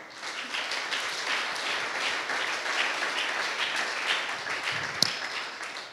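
A church congregation at a seminar service breaks into steady, sustained applause that fills the room with dense clapping throughout, with a brief sharp knock near the end.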